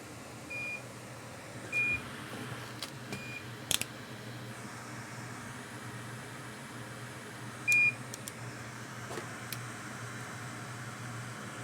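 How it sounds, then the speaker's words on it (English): An electronic device gives several short, high beeps, spread out and isolated, against a quiet room hum with faint clicks, and no one talks. "Stop beeping at me."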